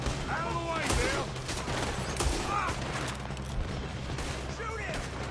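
Rapid gunfire in a Wild West video game shootout, loud overlapping shots and volleys in a dense, continuous fusillade with shouted voices mixed into the clamor.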